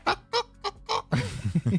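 A chicken clucks in a string of short, sharp, close calls, a few spaced bursts followed by a quicker run of softer clucks over a light background.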